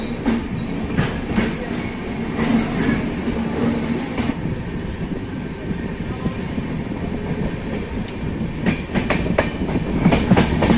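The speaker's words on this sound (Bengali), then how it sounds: "তো আমাদের ট্রেন ছেড়ে দিল বর্ধমান স্টেশনে 1 নম্বর প্ল্যাটফর্ম।" Jammu Tawi Express pulling out of platform 1 at Bardhaman station, a steady loud rumble of rolling carriages with rhythmic clickety-clack of wheels over rail joints and occasional faint squeals, no voices.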